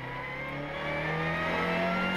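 Lamera Cup race cars on the Nogaro circuit in 2014: a close engine revving and accelerating with a rising pitch, steady and loud throughout, with no speech.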